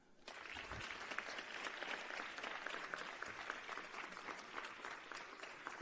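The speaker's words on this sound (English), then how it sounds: "let's give a round of applause to Jude Hutting." Steady, dense applause from a summit audience fills the whole stretch, many hands clapping at once at a fairly distant, even level.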